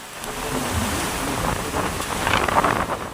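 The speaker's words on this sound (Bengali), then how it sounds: "ঘূর্ণিঝড়ের প্রভাবে উপকূলীয় এলাকায় দমকা হওয়ার সঙ্গে হচ্ছে প্রচণ্ড বৃষ্টি" Gusty coastal wind driven by Cyclone Remal roars over rough surf, a dense continuous rush buffeting the microphone, with waves swelling louder toward the end.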